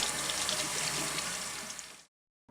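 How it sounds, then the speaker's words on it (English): Cold tap water runs steadily and loudly over a pepper as it is rinsed, a continuous splashing hiss that cuts off abruptly near the end. "Rinse the pepper under cold running water."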